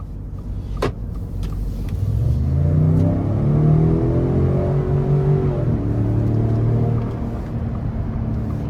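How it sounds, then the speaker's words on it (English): A 2022 Ford Expedition Limited with the Stealth Performance Package accelerates on the road, its engine rising in a steady, strong rumble with audible gear changes as revs climb and settle, heard from inside the cabin with no talking. "take this 2022 Expedition Limited with the Stealth Performance Package out on the road for a quick test drive"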